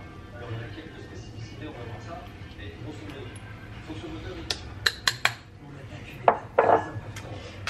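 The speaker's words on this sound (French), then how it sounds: "Je vais racler un peu." Several sharp scrapes and clatters of a spatula against a food processor bowl holding cauliflower with curry powder and garlic powder, coming in short bursts near the end over a low steady hum.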